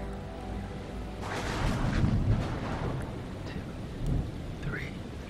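A deep, rolling rumble of thunder builds and fades from a storm in the video game Man of Medan, layered over steady rain with a later swell of rumbling.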